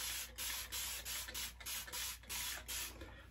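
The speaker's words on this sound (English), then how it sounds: "I'm just going to wet the face real quick" Water is splashed onto the face before a shave with a double-edge razor: about ten quick, hissing spray-like bursts in an uneven rhythm, close and fairly loud.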